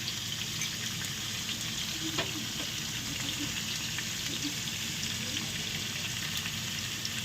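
Potato and papaya pieces fry in oil in a pan with turmeric and salt added, giving a steady, close sizzle with faint crackles throughout and no one talking.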